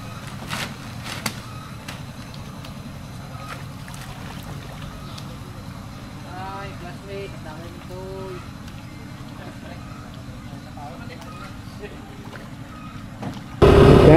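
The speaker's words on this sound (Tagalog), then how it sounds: "So alis na nga itong bangka na to. Kung makikita natin mga 3 motor" A boat with three outboard motors heads away on open water, a steady low engine drone mixed with wind buffeting the microphone, while someone talks over it and a loud burst of noise ends the clip.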